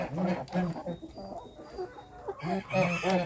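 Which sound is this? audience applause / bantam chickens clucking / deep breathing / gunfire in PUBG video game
bantam chickens clucking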